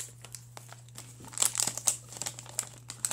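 A PCI diagnostic card is pulled out of an anti-static bag with soft crinkling and rustling of plastic, close and quiet, in short irregular bursts.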